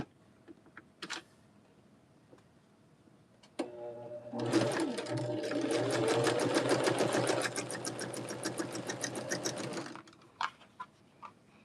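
Sewing machine stitching quilt block pieces sewn right sides together: a soft whir builds into a steady, fast run of stitching for several seconds, then slows and stops, with faint handling clicks before and after.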